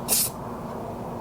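Carb cleaner spraying through a Honda GCV160 carburetor in one short, loud, close hissing burst that stops abruptly, leaving a steady low workshop hum.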